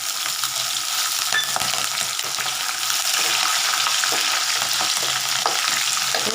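Ginger and green chillies frying in a pan of hot oil for Nellore puliyodharai, a loud continuous crackling sizzle with scattered stirring clicks, no voices over it.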